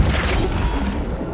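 Flipendo spell impact in the Hogwarts Legacy video game: a loud, dense crash that bursts in at once and rumbles on without a break through its short length.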